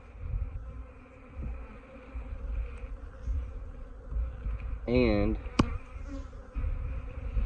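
Honey bees buzz steadily and close around a hive, a dense droning hum with a brief spoken word partway through.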